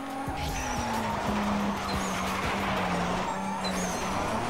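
Tires squeal in a long continuous skid as a car slides through a race in Need for Speed Most Wanted, with a steady engine drone underneath and a few sharp ticks, loud and close the whole time.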